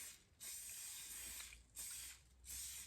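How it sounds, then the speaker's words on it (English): Three bursts of aerosol layering spray hiss, each a second or so long with brief pauses between, close and fairly quiet, no talking, applied to model railway trees. "I'm going to try the layering spray."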